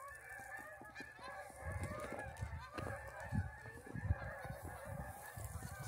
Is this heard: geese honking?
yes